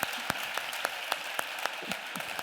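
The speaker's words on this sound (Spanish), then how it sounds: "Fuerte aplauso para Walter Thompson" Audience applause for a presenter at the ENAP 2016 conference talk, with spaced, sharp claps over a steady bed of clapping, moderately distant and alone without talk.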